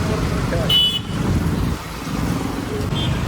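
A car drives along a city road in Kothrud, Pune, its engine and road noise rumbling steadily up close while passing traffic and a brief horn toot sound around it and people talk inside.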